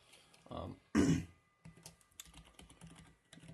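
Someone types a password on a PC keyboard, with a quick burst of soft, close keystroke clicks, faint and irregular.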